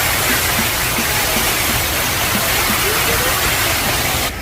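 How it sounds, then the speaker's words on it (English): A waterfall by the pool at Disney's Coronado Springs Resort, a loud, steady broadband rush of falling water that fills the whole span without pause. "you see the nice waterfall right there"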